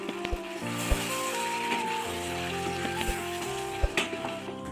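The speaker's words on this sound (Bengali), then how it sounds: "মশলাটা দেওয়ার পর একটু ভালোভাবে নাড়াচাড়া করব যাতে মশলাটা পুরো তরকারিটার সাথে ভালো করে মিশে যায়" Spiced aloo dum curry bubbles and sizzles in a pan while it is stirred, with a steady frying hiss, soft scraping knocks and faint background hum.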